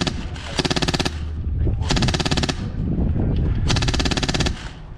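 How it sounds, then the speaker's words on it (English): Bursts of rapid, loud automatic gunfire at an airsoft milsim event, three long strings of shots in quick succession over outdoor noise, with a voice speaking briefly. "Those shots are reaching."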